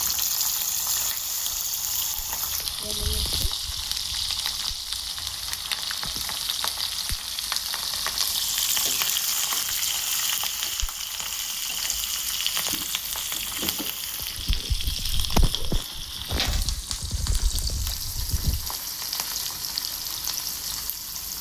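Green chilies fry in hot oil for mango pulihora, a steady loud sizzle with bursts of crackling and stirring clatter toward the end, no voices.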